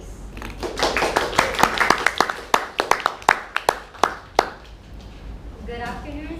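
Audience applause at a school debate on teacher-led assemblies, welcoming a speaker for the proposition: a few seconds of scattered, fairly sparse hand claps that thin out to individual claps, with room noise underneath and a voice starting at the end.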